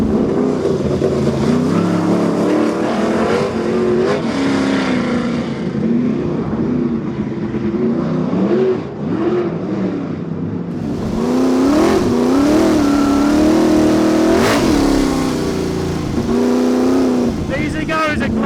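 A 900 hp V8 sprint car engine revs loud and close, its pitch surging up and down through repeated throttle swells, climbing to a sustained high wail toward the end.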